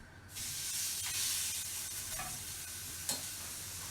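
A burger patty for a club sandwich laid into a hot pan, bursting into a loud hissing sizzle right at the start that holds steady, broken by a few soft scrapes and one sharp tap, no voices.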